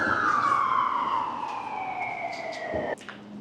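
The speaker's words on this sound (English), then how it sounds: "I can never escape those sirens." An emergency vehicle siren wails loudly on a New York City street, its tone sliding downward as it passes close by, followed by a brief abrupt break and a lower siren tail; no speech.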